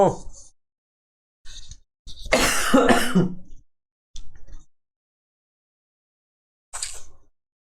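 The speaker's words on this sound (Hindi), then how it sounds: "इतना खांसी क्यों आ रहा है मेरे को" A man teaching a maths lesson coughs and clears his throat in several short, close bursts separated by silence, with one longer, harsher coughing fit in the middle.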